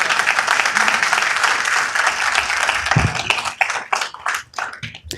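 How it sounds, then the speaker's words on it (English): An audience at a city council meeting claps loudly and steadily for a few seconds. The applause then thins into scattered, individual claps as it fades out. "if you want to applaud, it takes away from their time because then they pause"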